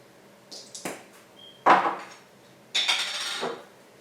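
A utensil scrapes and clinks against a bowl while chickpea salad is mixed, a few separate close knocks and scrapes with quiet gaps between them.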